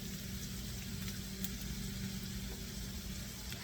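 Onions sautéing in a pan give a steady, close sizzle that hisses continuously and evenly throughout, with no talking.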